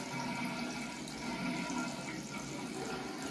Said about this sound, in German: Die Toilette läuft auch wieder voll.